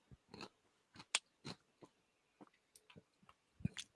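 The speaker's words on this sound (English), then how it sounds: "I can hear the crunch. Yeah, sounds crunch." Crunchy chewing of a sour pickle spear, a handful of sharp close bites and crunches scattered irregularly among quieter mouth sounds, with no talking.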